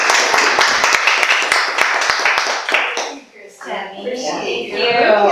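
An audience at a Fountain Hills Chamber of Commerce event claps steadily and loudly to welcome a speaker, the applause fading after a few seconds into a speaking voice.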